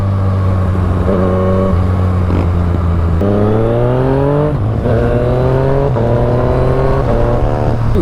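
Yamaha FZ-09 motorcycle accelerating hard with quickshifter upshifts, its engine note climbing steadily in pitch and then dropping briefly at each of several quick gear changes, loud and close throughout.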